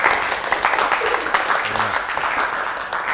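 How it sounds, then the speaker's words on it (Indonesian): Classroom of students clapping for a classmate, a brisk burst of many hands at close range that carries on for a few seconds, with a brief voice partly heard under it. "tepuk tangan buat Mas Agung."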